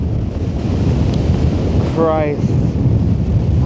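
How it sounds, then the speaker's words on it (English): Strong wind buffets the microphone in a loud, constant roar on an exposed mountain ridge in North Wales, with a voice speaking briefly partway through. "It's so windy."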